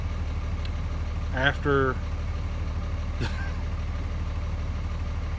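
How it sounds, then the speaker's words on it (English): A pickup truck engine idles nearby as a low, steady rumble under a brief spoken word, with a couple of short higher-pitched sounds breaking in. "my truck's running in the background"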